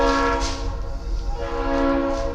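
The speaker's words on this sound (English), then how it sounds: "not have loud train horns while I'm trying to talk to you guys." A loud train horn blares close by in one long sustained chord, steady for the full length with rumbling rail noise underneath and no talking.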